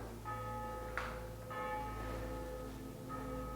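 A church bell rings near an abandoned five-story mansion, its sustained harmonic tones struck about every one and a half seconds, moderately loud over steady background hum.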